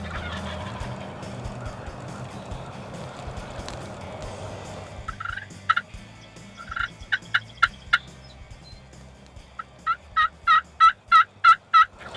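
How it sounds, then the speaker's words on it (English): Wild turkeys gobbling in a rapid, rattling series during a Michigan hunt, faint at first and then louder, repeated calls answering a turkey call after a stretch of wind-like outdoor noise. "gobbling on our first call"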